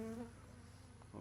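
Bees hum and buzz faintly near a beehive in an apiary, a thin steady drone with a brief tonal whine at the start and a small knock near the end.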